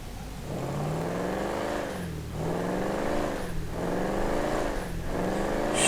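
A 1969 Ford Mustang Boss 302 engine in GTA 5 revs repeatedly, rising and falling in pitch in four or five strong surges, loud and close.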